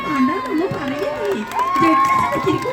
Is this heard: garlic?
no